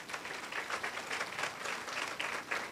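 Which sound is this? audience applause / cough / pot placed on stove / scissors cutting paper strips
audience applause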